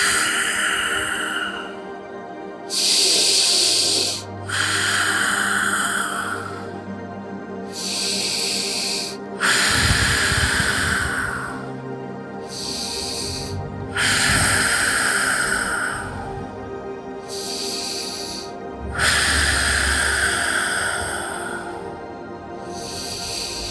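Slow, deep breathing during a yoga butterfly pose, five long breaths with airy inhales and exhales alternating in a steady rhythm, close and fairly loud against a quiet room.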